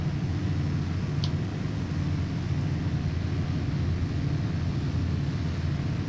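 Steady droning roar of a Ju 88 C-6 heavy fighter's engines in a flight video game, a constant broad rumble with no break and no speech, running at one even loudness throughout.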